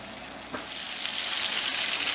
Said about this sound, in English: we've been frying on medium, a little bit, maybe a little bit more than medium heat